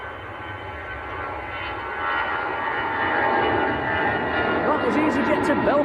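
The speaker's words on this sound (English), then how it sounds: "That was EasyJet to Belfast in Northern Ireland." An EasyJet airliner bound for Belfast roars at Manchester Airport, its jet noise swelling and growing louder midway, while a voice talks over it.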